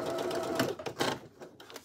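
Sewing machine needle punching down into fabric with a short run of mechanical stitching pulses, close up and moderately quiet, easing off toward the end.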